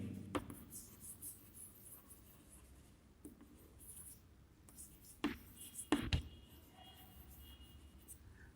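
Marker or chalk scratches across a classroom board as a maths lesson on subtraction is written out, quiet strokes in short bursts with a few sharper knocks, heard in a hushed room.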